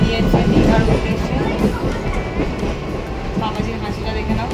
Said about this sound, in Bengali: ট্রেন ছেড়ে দিয়েছে, দীঘার উদ্দেশ্যে।